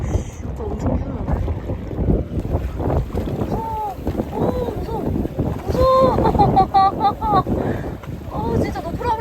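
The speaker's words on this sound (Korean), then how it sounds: "바람이 세긴 센가 보다" Strong wind gusting over a felucca sailboat on the water, loud rumbling buffeting against the microphone with creaks and splashes, while people chatter and exclaim throughout.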